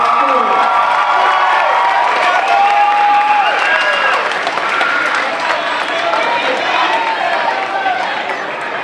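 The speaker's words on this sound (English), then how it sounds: "Another hand clap for our 11th grade" Students and families clap and cheer at a high school honor roll assembly for 11th grade honorees, with sustained applause mixed with crowd chatter and overlapping voices throughout.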